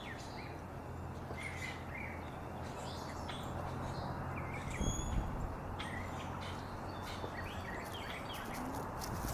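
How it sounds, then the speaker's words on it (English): Springtime birds chirp and call in scattered bursts over a steady low outdoor hum, fairly faint and at a moderate distance, with no voices. "All the birds are chirping, springtime."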